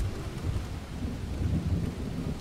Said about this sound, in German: Ich höre Regen. Hat es die ganze Zeit geregnet?